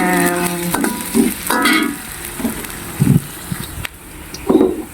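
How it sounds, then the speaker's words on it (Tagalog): Broccoli stir-frying in a home kitchen pan, a soft continuous sizzle broken by repeated bursts of scraping and stirring spaced about a second apart, with no talking. "Mag-stir fry tayo ng broccoli."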